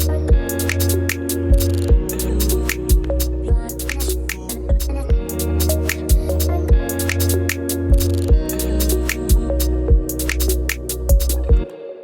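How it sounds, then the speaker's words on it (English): A mastered chillout track runs through a saturator with soft clipping on, its bass turned down so the lows stay clean, carrying a steady thumping beat, sustained chords and bright percussive hits, loud and full, no voice. "I just have a saturator on here"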